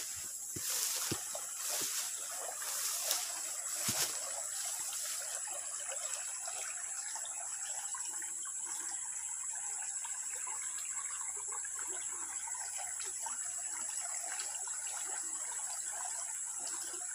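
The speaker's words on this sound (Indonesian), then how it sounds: "Ini salah satu sungai yang masih asri di Kota Samarinda." River water in Samarinda flows with a soft, steady rushing hiss heard from nearby, with no voices over it.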